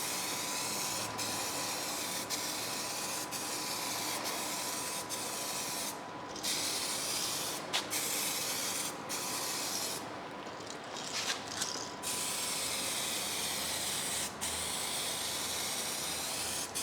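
Spray can laying down clear coat over a rust repair, a continuous broad hiss held steadily for long passes with short breaks and faint clicks between, close and fairly loud.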